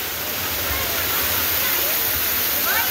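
Waterfall near Panvel, Navi Mumbai, with water pouring down hard in a dense, constant roar, loud and close, and voices faintly mixed into the rush.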